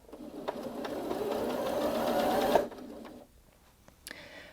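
A Janome Memory Craft 8200QCP sewing machine sews forwards in a close, steady hum of rapid stitching for about two and a half seconds, then stops. A few faint clicks follow in quiet.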